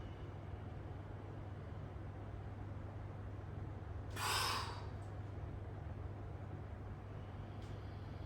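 A single breathy exhale during a wall push-up, a short airy burst standing out once against a steady low background hum.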